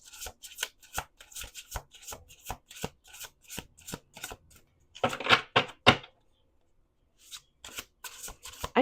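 Tarot card decks are riffled and bridged in quick rhythmic bursts of crisp, papery flutters, close and fairly loud, with a brief pause before the shuffling resumes.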